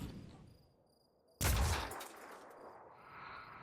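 A single sharp, booming sniper rifle shot in the Phoenix Point video game, loud and close, followed by a decaying rumble and lingering ambient noise.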